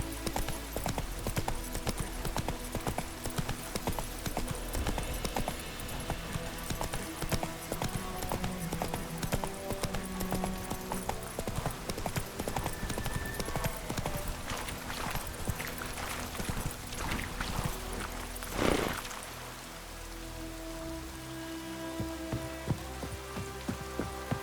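Steady clip-clop of the horse Roach trotting in The Witcher 3, hooves beating in an even rhythm for a long stretch over a soft rain-like hiss, with brief talk in between.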